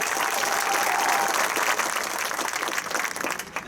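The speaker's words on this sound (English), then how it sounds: "We'll give him another round of applause if you will, please." An audience at a university marching band preview event gives a steady, full round of applause that holds evenly and begins to thin toward the end.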